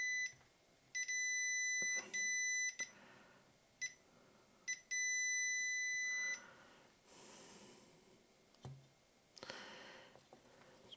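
A multimeter in continuity mode beeps during checks for solder bridges on an eBay Nintendo 64 board, giving several sustained electronic tones of a second or two, separated by short gaps and quieter handling noises.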